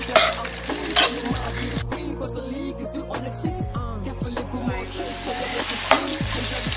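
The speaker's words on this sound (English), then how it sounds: "So I stir my vegetables and allow it to simmer in the oil for a while." Vegetables with onions stirred as they simmer in oil in a pan for a prawn casserole, giving a loud, close, continuous sizzle with bursts of frying crackle and occasional scrapes of the stirring utensil.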